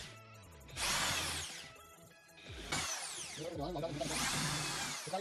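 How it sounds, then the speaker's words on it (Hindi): A power drill bores holes into a four-inch PVC end cap in two or three whining bursts, the pitch rising and falling as the bit spins up and bites into the plastic, heard close. "हम ड्रिल मशीन की मदद से इसमें फटाफट से होल कर लेते हैं"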